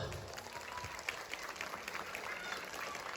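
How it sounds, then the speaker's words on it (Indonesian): Children at a primary school Maulid Nabi celebration clap together in a quiet, steady patter of many small hands, faint and somewhat distant, with a murmur of young voices underneath. "Tepuk tangan buat Allah."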